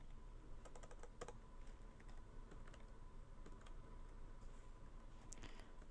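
Quick, irregular clicks of typing on a computer keyboard while entering spreadsheet totals, faint and close, with no speech.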